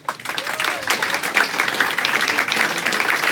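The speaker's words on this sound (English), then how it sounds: "Round of applause, please." An indoor audience at a football club's meet-the-manager event breaks into sustained applause, a dense, steady wash of clapping that holds for several seconds.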